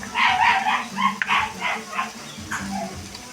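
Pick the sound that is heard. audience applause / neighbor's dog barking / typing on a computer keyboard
neighbor's dog barking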